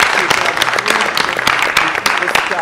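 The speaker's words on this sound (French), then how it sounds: "On applaudit pour vous" A studio audience applauds in dense, sustained clapping at the close of a music talk show, the applause loud and even from start to finish.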